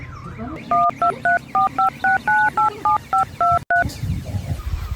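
A quick run of about a dozen phone keypad dialing tones, evenly spaced beeps close up, followed by a brief low background murmur.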